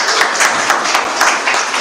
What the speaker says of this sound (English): Let's give a clap for our church